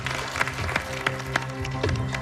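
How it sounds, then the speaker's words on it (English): Contestants on a cooking competition show clap for themselves after a timed challenge ends, a brisk round of applause with scattered sharper claps over a busy room. "Give yourselves a round of applause."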